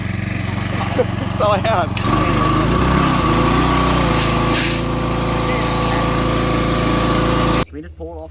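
Toyota Supra engine running rough on race gas in a drift car build, a loud close engine roar that surges and wavers for several seconds before cutting off abruptly, with brief talk near the start and end.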